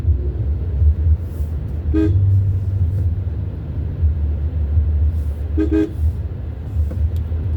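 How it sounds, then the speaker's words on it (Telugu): Busy, congested road traffic on the route from Arilova to Madhurawada: a steady engine rumble from passing autos, buses and cars, broken by two short bursts of horn tooting, one near the start and another later, with no talking. "చాలా ఇరుగ్గా ఉంటుందండి రోడ్డు, ఎందుకంటే ఏదో ఒక ఆటో, బస్సు, కారు వెళ్తూనే ఉంటాయి రూట్లోనూ."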